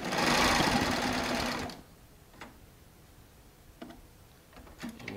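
A Baby Lock Triumph serger running a four-thread stitch on Shannon Cuddle fabric whirs loudly in a fast continuous burst, then stops, leaving a few faint clicks and taps from handling.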